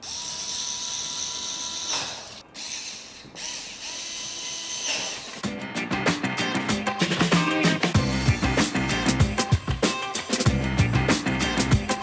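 A Xiaomi Mijia cordless rechargeable electric screwdriver tightens a screw: a quiet opening gives way to loud, close motor whirring broken into rapid ratcheting clicks and stuttering bursts as the screw seats.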